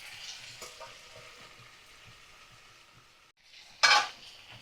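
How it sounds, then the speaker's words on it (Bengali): Pumpkin, potato and Malabar spinach fry in a pan over medium flame, giving a steady soft sizzle with stirring scrapes, then a sharp louder burst of hissing near the end. "ভালো করে দেখো ভাজা করে নিচ্ছি কুমড়ো আর আলু"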